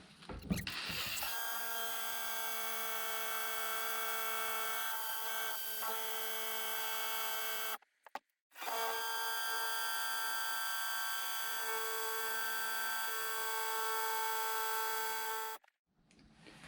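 Juice Mover 500 oil transfer pump runs with a steady, loud electric whine and hum that cuts out briefly midway, restarts, then stops near the end.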